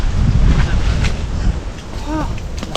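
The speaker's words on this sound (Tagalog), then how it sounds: "Hangin!" Gusty outdoor wind buffets the microphone with a steady low roar throughout, loud and close, while a voice briefly cries out near the end.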